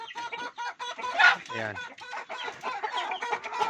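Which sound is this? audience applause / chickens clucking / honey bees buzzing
chickens clucking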